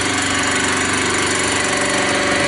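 A milling machine spindle runs steadily at 1,500 RPM with a 16mm two-flute indexable end mill fitted, giving a loud, continuous mechanical hum and drone nearby without any cutting.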